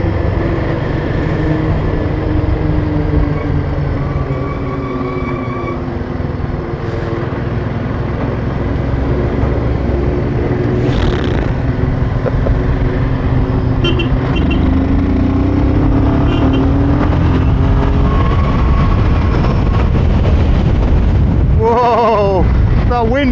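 A motorcycle engine pulls steadily through third and fourth gear on a mountain road in the Indian Himalayas, a loud continuous drone with wind rush, shifting pitch across the ride and a brief sharper burst near the end.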